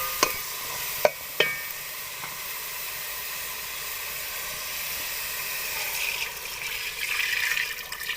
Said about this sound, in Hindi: अब इसके अंदर हम बेसन का जो बैटर हमने बनाया है वो डाल देते हैं।